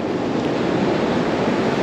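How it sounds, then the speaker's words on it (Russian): Stormy sea surf on a beach at Lazarevskoye, a loud, broad wash of breaking waves mixed with wind noise over a brief moment, with no voices. "Вот такое вот море. Сверху, кажется, кстати, не такие уж и большие волны, да?"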